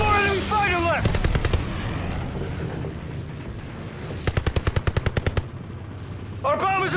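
Rapid machine-gun bursts hit a fighter plane during an aerial dogfight in a video game, two loud rattling volleys of evenly spaced shots over a steady engine drone, with brief voices at the start and end.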